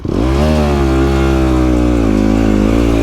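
A dirt bike engine on wet rainy trails revs loud and close, holding a steady droning pitch that dips and climbs slightly over a few seconds, with no talking.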